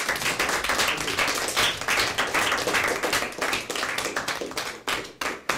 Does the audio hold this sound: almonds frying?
no